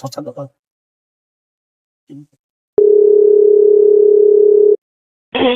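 After a phone call is cut off and a number is redialled, a single steady electronic tone plays for about two seconds, with short bursts of talk just before and just after it.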